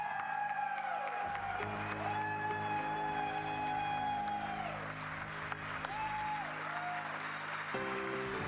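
A crowd at a speedrun event claps and cheers in a sustained wash of applause, heard under loud game music with steady sustained tones throughout.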